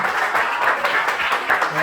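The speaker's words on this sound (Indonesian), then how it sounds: "Tepuk tangan untuk kelompok 1 ya" A school class claps for a presenting group in the classroom, a steady, moderately close patter of many hands with a voice talking over it.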